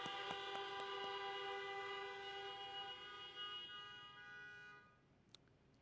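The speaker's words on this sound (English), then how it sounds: "Let's give Lainey and Noelle a round of applause and honks." Car horns honk for middle school graduates at a 2020 drive-through ceremony, a sustained chorus of blended horn tones that holds for several seconds and then fades, heard from a distance.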